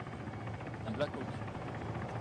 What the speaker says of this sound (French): Hélicoptère Venom. au-dessus de nous qui passe.